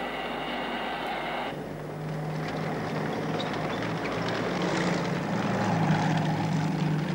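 A vehicle engine runs steadily and fairly loudly throughout, a continuous droning hum with a tonal whine early on that then gives way to a broader, rumbling roar.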